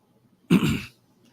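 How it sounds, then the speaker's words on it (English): One short, close throat-clearing cough, loud and abrupt, surrounded by near silence. "I'm like clearing my throat and coughing my friggin' brains out"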